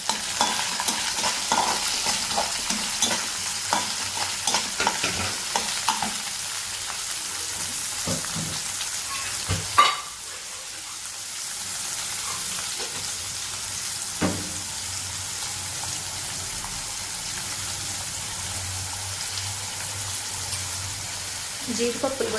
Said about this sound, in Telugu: వేసి వేయించుకోవాలి. ఇవి వేగాలి.